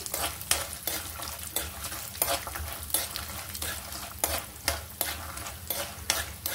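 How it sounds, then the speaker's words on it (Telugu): Peanuts and cashews frying in oil for a sesame tamarind rice tempering, heard as a close, continuous sizzle broken by regular scraping stirs of a spoon against the pan. "ఇప్పుడు ఈ వేరుశనగ పప్పులు, జీడిపప్పు కూడా వేసేసుకుందాము. వేగుతున్నాయి చూడండి చక్కగా అన్నీ."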